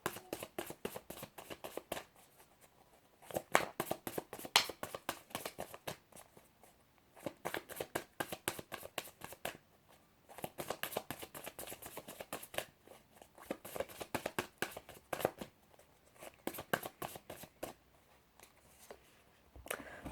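Tarot cards are shuffled by hand in bursts of quick, close riffling and flicking, separated by short pauses as cards are drawn, faint and without talk.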